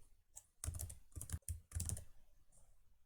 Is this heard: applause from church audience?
no